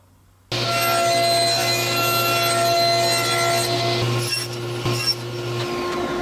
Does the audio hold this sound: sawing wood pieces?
yes